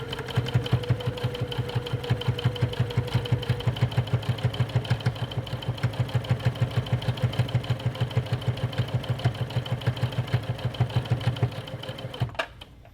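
A sewing machine back stitches a drawstring bag sewn with teal Aurifil 50 weight thread, running as a steady, rapid, close-up stitching rattle that carries on evenly and then stops abruptly near the end.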